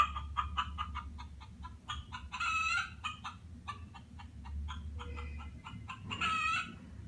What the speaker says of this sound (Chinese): 咕咕咕的声音哦。